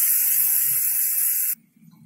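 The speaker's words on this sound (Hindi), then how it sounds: "तो चलिए अब हम इसे कुछ देर भून लेते हैं।" Sliced onions frying in a pan for a mushroom and pea masala give a loud, steady hiss of sizzling that cuts off abruptly, leaving a faint low murmur.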